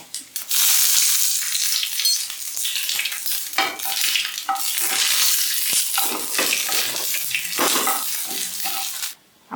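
Curry leaves and dried red chilies crackle and spit loudly in hot oil for a tempering, an intense bright sizzle with bursts and scrapes that cuts off abruptly.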